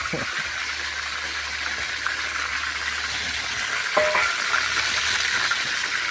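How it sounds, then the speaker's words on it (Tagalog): Food sautéing in frying oil in a pan, a continuous close sizzle with a few clattering stirs and a brief louder spatter partway through. "Yung pagpritohan ko na mantika, ito yung paggigisahan ko."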